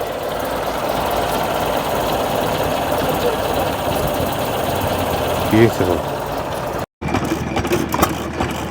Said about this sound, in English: So in a side valve engine, you get much less valve train noise.